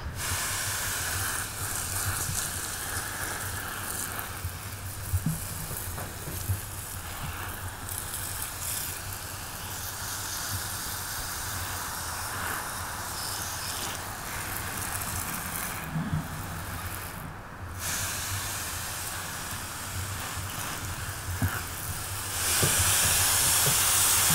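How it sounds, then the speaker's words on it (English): Garden hose set to a fine mist sprays lightly over succulents in a glass aquarium terrarium outdoors, giving a steady soft hiss that runs for about twenty seconds with a brief brighter spray burst near the end. "let me use the garden hose to just mist barely"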